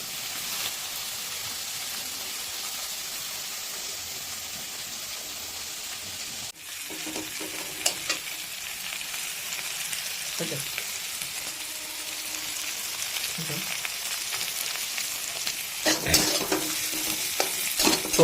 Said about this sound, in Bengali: একদিকে চিংড়ি মাছটা ভাজা চলছে